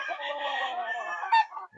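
A five-year-old golden yellow-legged hatch rooster gives a single drawn-out, throaty cluck close by, ending in a short sharp note.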